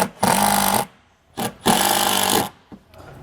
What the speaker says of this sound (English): I'm going to mount this in place using some wood screws.